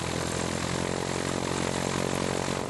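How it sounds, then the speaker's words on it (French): A T6 propeller training plane, a post-war French Army trainer, passes about 150 metres overhead at an airshow, its radial engine a loud, steady, rough droning roar with strong low harmonics throughout. "avion école de l'armée française, des années d'après-guerre, salue les enfants"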